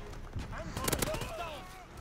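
Gunfire in Call of Duty WWII multiplayer, a short cluster of sharp shots near the middle, heard under a player talking over game noise.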